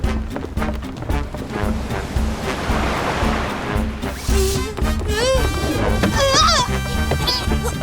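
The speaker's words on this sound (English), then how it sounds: "The sea is getting rough." Animated rough sea with surging waves and gusting wind roars continuously and loudly, joined by whooshing swells and bursts of sound effects.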